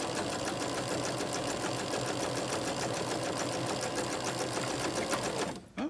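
A sewing machine stitches quilt pieces for a charity quilt in a steady, fast, continuous mechanical whir. The sound holds loud and close, then abruptly stops near the end.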